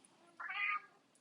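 Floyd the cat gives a single short, faint meow in a quiet room during a mat yoga practice.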